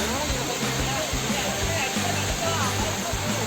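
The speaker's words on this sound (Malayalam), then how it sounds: "ചേർവാള എന്നൊരു സ്ഥലത്ത് ഒരു അടിപൊളി വെള്ളച്ചാട്ടം" The Chervala waterfall rushes in a constant broadband roar close by, while people talk over it.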